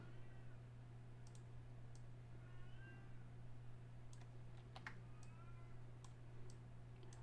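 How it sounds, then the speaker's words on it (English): A cat whines indoors in faint, thin meows over a steady low hum, with scattered light clicks, like keyboard taps, around it. "I don't know if you can hear my cat, but she's whining."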